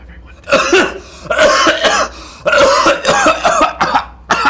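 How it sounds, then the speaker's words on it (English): A person coughs persistently in a close, loud run of harsh, throaty bursts with brief gaps, some sounding like throat clearing, during a tabletop role-playing game session. "Persistent cough."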